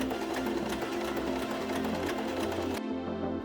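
Sewing machine stitching sleeve seams, a rapid even mechanical whir and patter running close and steady, cutting off abruptly near the end.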